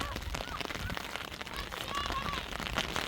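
Rain falls across rice paddy fields in a rural downpour, a dense patter and hiss with scattered crackling drops throughout, close to the microphone and without clear speech.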